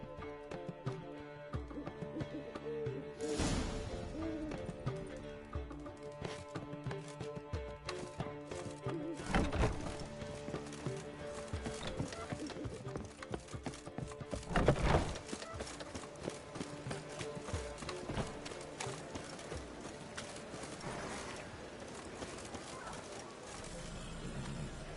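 Geralt's horse Roach galloping in The Witcher 3, a steady run of hoofbeats with a few louder thuds, under game music and ambience.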